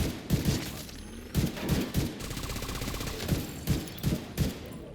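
Gunfire in the video game The Division 2 crackles in quick bursts of automatic shots, sharp and close, with short pauses between volleys over a steady backdrop of ambient game noise and no speech.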